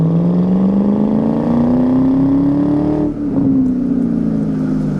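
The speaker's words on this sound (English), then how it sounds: "Exhaust sounds great." A 2000 Ford Saleen's 4.6 engine revs and drones through its exhaust, pitch rising steadily, then briefly dropping before settling into a loud, continuous rumble.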